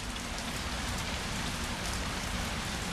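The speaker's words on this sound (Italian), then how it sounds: "E come piove?" Heavy rain pours down steadily in the Resident Evil 3 Remake video game, a dense, even hiss of drops hitting surfaces that continues without a break and without any voices.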